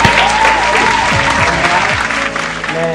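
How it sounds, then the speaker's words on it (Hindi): An Independence Day stage program audience applauds loudly and continuously, the dense clapping blended with a sustained tonal background and some crowd noise throughout. "जोरदार तालियों से स्वागत कीजिए"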